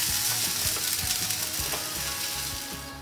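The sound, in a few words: stirring kebab filling frying in a pan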